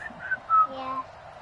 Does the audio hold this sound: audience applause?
no